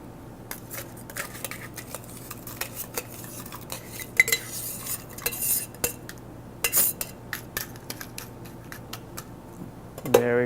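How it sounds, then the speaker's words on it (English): A spoon clinks and scrapes against a glass of crushed ice while a mint julep cocktail is stirred, with irregular close metallic taps and rattles throughout. "Give it a stir."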